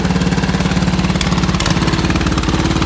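A 1969 Economy Power King vintage tractor engine runs close up with a steady, even chugging beat, loud and unbroken from start to finish.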